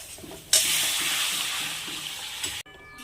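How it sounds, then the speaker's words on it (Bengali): Hot water poured into a pan of simmering egg curry makes a steady rushing splash with bubbling beneath, starting abruptly and running for about two seconds before cutting off. "এবার এটার মাঝে আমি গরম জলটা ঢেলে দিলাম"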